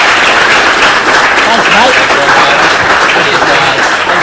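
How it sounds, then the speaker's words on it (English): Dense, steady applause fills the room from a live audience at a marathon festival event, loud and continuous, with a brief spoken thanks over it. "Can we give him a massive round of applause, please?"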